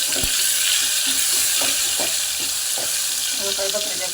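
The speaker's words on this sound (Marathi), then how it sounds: "काही बकऱ्याच्या मटणाला मी फोडणी दिली" Goat mutton hits a hot tempering in a pan, giving a continuous loud hissing sizzle up close, with scattered soft clicks and stirring knocks.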